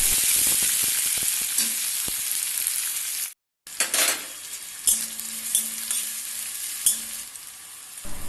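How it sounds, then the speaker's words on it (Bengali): Dry red chilli, black cumin and chopped onion fry gently in hot oil, a steady sizzle with occasional utensil clinks and stirring scrapes, briefly cutting out before resuming with a few sharper pan knocks. "হালকা করে একটু ভেজে নিচ্ছি"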